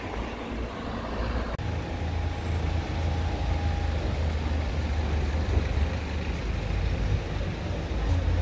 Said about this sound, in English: I'm sorry for the noise, but that's what you get when there's cars